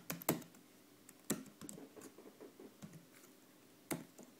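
Keys tapped on a Mac keyboard while entering a new password, a few irregular clicks and short bursts of quick presses, close and clear against a quiet room.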